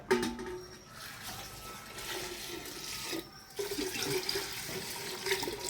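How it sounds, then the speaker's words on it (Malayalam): Water pours steadily onto rice for coconut rice in a home kitchen, a rushing, splashing stream that runs throughout with a brief dip in the middle. No talking. "ഈ വെള്ളം നമുക്ക് പാകത്തിനാക്കാൻ അരിയിൽ വെള്ളം ഒഴിക്കുക."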